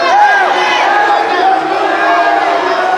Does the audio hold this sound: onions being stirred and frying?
no